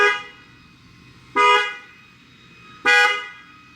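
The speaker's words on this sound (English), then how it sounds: "anything over a 1 degree tilt will set off your alarm." Horn of a 2025 Toyota Grand Highlander XLE sounding through its Protect-X alarm module, two loud, sharp honks about a second and a half apart, each ringing briefly before cutting off, with near silence between.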